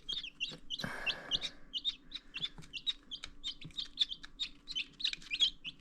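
Silver laced and gold laced Wyandotte chickens peck and feed on a homestead, with dense repeated high chirps and soft clucks throughout and a brief rustling burst early on, near and steady with no talk.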